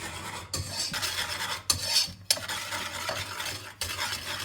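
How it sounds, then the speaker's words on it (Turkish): Dry ingredients and sugar being stirred in a bowl for a magnolia dessert with Oreo, a steady scraping and rasping that pauses a few times between bursts, close up with no talking. "Ve güzelce karıştıralım kurularımızı."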